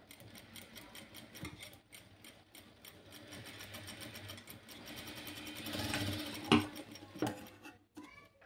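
A sewing machine runs in a quiet, steady rapid stitch while an A-line frock is sewn, with a few brief faint clicks near the end.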